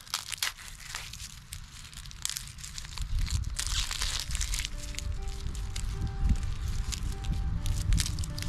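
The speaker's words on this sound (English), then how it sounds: "the first thing you're going to do is peel the outer layer off" Papery outer skin being peeled off a sprouted onion, close crinkling and crackling rustles in irregular bursts, with a steady background hum underneath.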